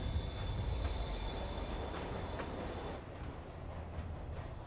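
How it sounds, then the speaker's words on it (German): Train moving in the video game Spider-Man Remastered, a rumbling rail roll with faint tonal wheel squeal and a few soft knocks, steady and moderately distant, easing slightly toward the end. "Der Zug bewegt sich."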